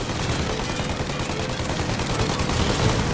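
Dense gunfire in Mafia: Definitive Edition, a loud, continuous barrage of rapid shots from a chase against a plane, with no gaps over a few seconds.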